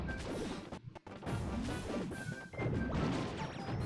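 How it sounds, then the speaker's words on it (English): Mario gets blown up in Mario Party, a loud burst of crashing and smashing hits, the first breaking off abruptly before a second and third wave of crunching impacts and clatter over a busy game soundtrack. "Mario got blown up when he was all squished."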